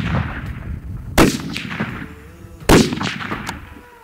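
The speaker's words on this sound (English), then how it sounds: "I'm gonna shoot a three shot group and then I'm gonna adjust." Two loud, sharp rifle shots about one and a half seconds apart from a Snowy Mountain Rifle fired while grouping shots on a mule deer hunt, each crack followed by a short echoing decay over a quiet outdoor background.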